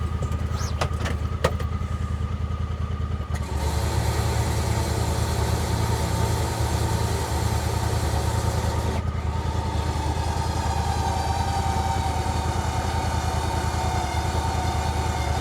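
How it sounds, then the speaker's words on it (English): A new winch on a Talon side-by-side dragging an old tractor, a steady motor drone and whir over an idling engine, loud and continuous with no talk. "Let's see if we can pull it out with the new winch."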